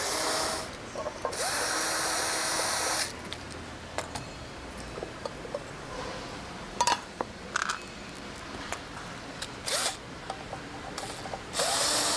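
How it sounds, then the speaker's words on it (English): An electric screwdriver removes the screws on the covers of a lamp tree. It whirs in several separate bursts, the first about two seconds long and the later ones short. Faint clicks and handling noises fill the gaps. "I'm using an electric screwdriver to make this a little bit faster"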